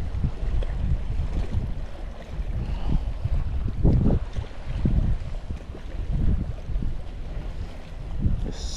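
Strong wind buffets the microphone on a boat during inshore saltwater fishing, with steady gusting roar and water wash that swells and eases in waves, no talk.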